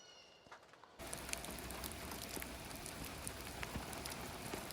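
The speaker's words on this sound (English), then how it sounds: "You can still hear the pitter-patter of rain on the roof." Rain patters steadily on a roof heard from indoors, a dense even hiss with scattered sharper drops, starting abruptly after a quieter first second.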